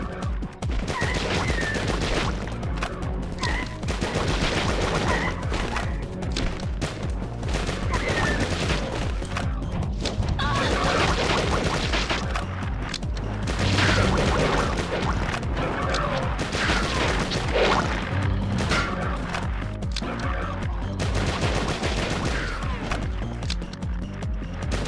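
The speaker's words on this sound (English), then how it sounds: "that's the submachine gun" Rapid submachine gun fire in the shooter game D2, dense continuous bursts and crashes filling the whole stretch, loud and close with a busy game soundscape behind.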